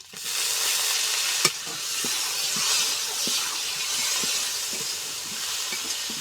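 Ginger paste and chopped tomato frying in a pan, a steady sizzling hiss with scattered soft knocks of stirring, close and unbroken, with no speech.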